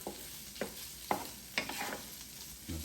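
Spam fried rice cooking in a Power XL cooker sounds as a soft, low-level sizzle, broken by several brief scraping stirs and clinks spaced out across the few seconds.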